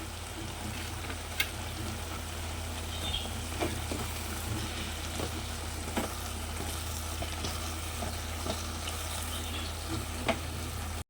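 Tomato, onion and ginger fry in a pan as the base for chicken biryani. A steady, close sizzle runs throughout, broken by occasional clicks from stirring.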